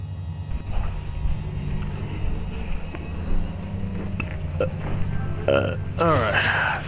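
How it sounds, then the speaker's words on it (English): A single loud burp near the end, low and croaking, following stretches of quieter rumbling and brief talk from a man playing Tomb Raider. "Excuse me about that burp."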